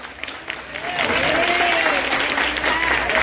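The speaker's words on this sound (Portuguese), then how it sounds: "E você aplaude o Senhor em nome de Jesus." A church congregation applauds with loud, sustained clapping that builds and stays full, while raised voices and cheers sound over it.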